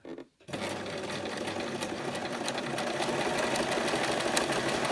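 An overlocker sewing machine runs an overcast stitch, its needle jumping either side of the centre blade, starting after a brief pause and then buzzing steadily and loudly with a fast mechanical rattle, no talk.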